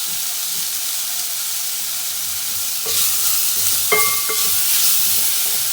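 Chicken pieces with a little salt frying in a pot for soup, a steady close sizzle and hiss that grows louder when stirred, with a few metallic scrapes of a spoon against the pot.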